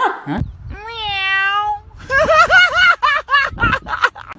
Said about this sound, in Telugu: పిల్లి వచ్చిందాడా